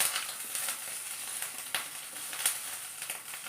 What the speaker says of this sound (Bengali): আদা দিয়ে একটু মশলাটা কষে নেব